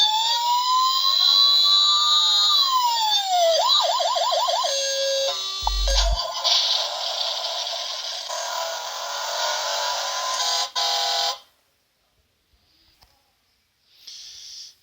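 A Pilsan Tery Bery 12V remote-controlled ride-on toy car sounds its electronic siren, a loud warbling and sweeping wail with a few tone changes and a buzzy alarm, running about eleven seconds before cutting off, then a brief chirp.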